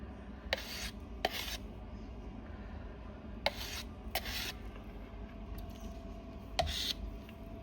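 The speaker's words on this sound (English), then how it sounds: "Just get around this side and just scrape that up." Spilled eco resin scraped up from a work surface in short rasping strokes, about six separate scrapes in pairs, close but faint over a low background hum.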